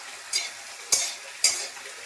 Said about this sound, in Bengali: আর এখানে আমি ফুলকপি ভাজছি